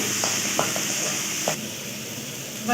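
Onion paste frying in hot oil with bay leaf and whole garam masala, a steady close sizzle with a few soft stirring scrapes, no voices.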